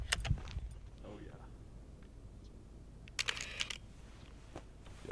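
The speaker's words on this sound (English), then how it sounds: "This thing has 1/4000th of a second shutter." A medium format camera with a 1/4000 s shutter clicks in sharp, brief bursts, a few near-together clacks, with quiet voices and outdoor background around them.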